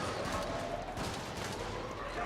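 Rapid bursts of gunfire in the video game Helldivers, dense fusillade-like crackle continuing throughout the short stretch, with faint voice chat mixed underneath.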